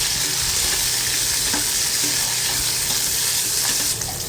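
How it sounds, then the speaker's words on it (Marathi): Split green chillies and garlic sautéing in oil for a bitter gourd dish: a loud, dense, steady sizzle fills the whole span, with faint stirring taps underneath and no talking. "मिरच्याही व्यवस्थित आपण तेलामध्ये परतून घ्यायच्या आहेत"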